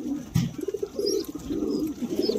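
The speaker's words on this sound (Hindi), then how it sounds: "अभी कबूतर खाते रहते दाना" Pigeons coo in a soft, repeated run while they peck at grain nearby, with a brief flutter or knock early on and no talk.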